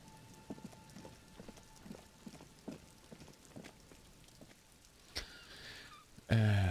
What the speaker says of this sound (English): Rain drips from the netting of the trap.